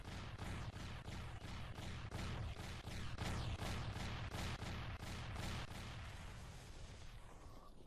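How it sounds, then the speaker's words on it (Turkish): Explosions in 7 Days to Die, a rapid chain of booming blasts going off one after another for several seconds, loud and dense, then fading out. "Ve gördüğünüz gibi çok süper bir patlama oldu."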